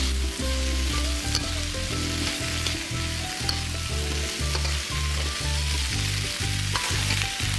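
Loud, continuous sizzle of vegetables stir-frying in hot oil for chicken and squid paprik, with rhythmic scraping and tossing strokes throughout.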